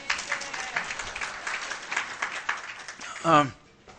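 Audience applause during a lecture on underground bases, a broad wash of clapping for about three seconds that thins out, ending in a brief low-pitched voice or murmur.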